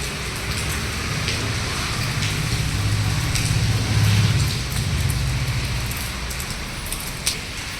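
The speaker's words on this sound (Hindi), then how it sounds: "बहुत तेज बारिश हो रही है।" Heavy rain pours steadily at a Hindu temple, a dense, continuous wash of drops drumming on surfaces close by, with a low rumble swelling briefly midway and no voices.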